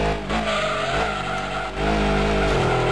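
A Lancia Stratos in Gran Turismo 2 slides with its tires skidding, a loud sustained squeal over steady engine drone that dips briefly and then resumes, with no talk.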